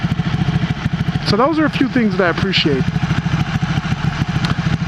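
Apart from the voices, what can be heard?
Ducati Panigale R motorcycle underbody exhaust engine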